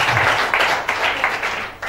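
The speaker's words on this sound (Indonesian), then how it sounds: "Mari kita berikan tepuk tangan." A church congregation applauds together, a dense, steady wash of clapping that fills the room for the full two seconds without pause.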